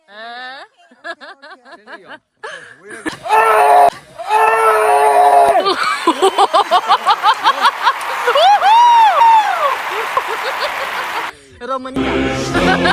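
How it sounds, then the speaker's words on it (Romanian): Tourists screaming in a shouting contest at Eco Cliff in Zhangjiajie, loud overlapping yells and shrieks, some drawn out and some in rapid bursts, with laughter and chatter between them. "Facem concurs de țipat."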